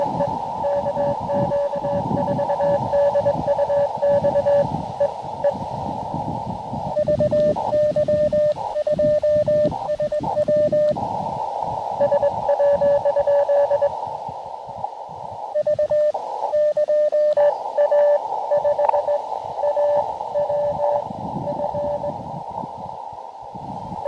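Morse code beeps from a low-power QRP ham radio during a park activation, steady tone bursts in quick dot-dash patterns over constant hiss and static, broken by short gaps, with no talking.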